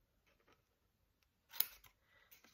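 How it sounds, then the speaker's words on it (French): Scissors cut scrapbooking paper for an Easter-themed craft, giving one crisp, close snip partway through with faint paper rustles before and after and no talking. "On vient couper ici."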